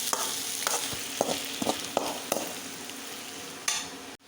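Ridge gourd sautés in a pan for chutney, a soft continuous sizzle punctuated by a handful of sharp scrapes and taps as it is stirred, ending abruptly.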